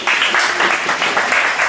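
A short burst of dense applause from a church congregation, bright and steady with slight swells, fairly close and loud.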